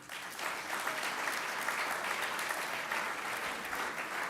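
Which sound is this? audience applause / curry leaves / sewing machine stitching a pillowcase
audience applause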